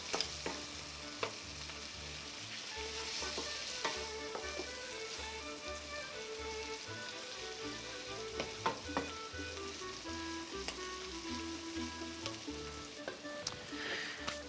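A lamb dish fries in a pan as dried thyme is stirred in. Soft, steady sizzling carries throughout, broken by occasional scraping clicks from the stirring utensil, with no one speaking.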